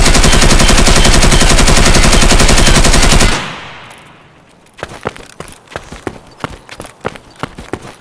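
An assault rifle in Escape From Tarkov fires one sustained, rapid automatic burst for about three seconds, loud and dense. A run of sharper single cracks and thuds follows after a short lull.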